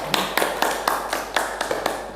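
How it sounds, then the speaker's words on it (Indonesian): A classroom group gives a short round of applause for group 3, sparse and uneven claps sounding as distinct sharp taps at a quick, irregular rhythm, close by in a reverberant room. "tepuk tangan untuk kelompok 3"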